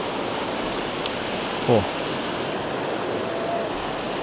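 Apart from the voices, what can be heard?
water overflowing a weir in a rural valley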